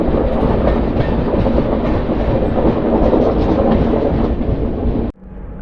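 The Janmabhoomi Superfast Express 12806, running from Lingampalli to Visakhapatnam, rumbles along the rails with a loud, close, continuous roar and rhythmic wheel clatter that cuts off abruptly near the end.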